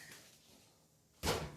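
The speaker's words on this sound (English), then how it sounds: "Put this oven door up." An oven door shuts with a single muffled thud near the end, following a stretch of quiet room hiss in a home kitchen.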